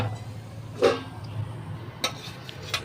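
A khaata kachori is set down on a serving plate with a few light clinks and taps of dishware, spaced apart over a quiet kitchen background.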